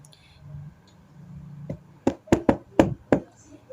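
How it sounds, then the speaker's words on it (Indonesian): Knocking on a wooden door in a Little Red Riding Hood fairy tale, five sharp close knocks in an uneven rhythm after a quieter tap, against a faint low background. "Serigala mengetuk pintu"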